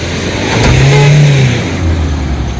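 A Tata Safari 4x4 diesel engine revs hard while pulling on a tow strap during an off-road recovery, a single loud sustained rev that rises and holds before easing off, with no talk over it.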